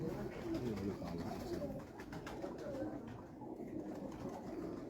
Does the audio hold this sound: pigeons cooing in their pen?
yes